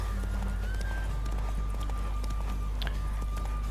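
Hooves of a white horse clip-clop steadily through Witcher 3, a quick rhythmic gait over a constant low rumble of ambient game noise, with no voices.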